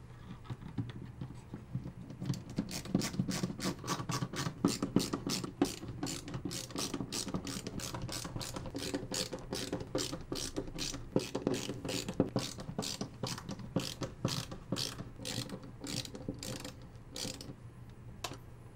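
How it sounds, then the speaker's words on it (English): Short screws are driven to fix a radiator to the top of a PC case, giving steady, rapid ratcheting clicks close up that continue evenly throughout. "Secure the radiator to the top of the case with the short screws."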